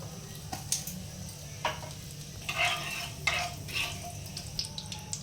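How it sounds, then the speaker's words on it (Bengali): Asafoetida hits hot white oil for a tempering. A faint, low sizzle is broken by a few sharp spoon clicks and stirring scrapes, and no one speaks. "একটু আমি হিং দিচ্ছি ফোড়নে।"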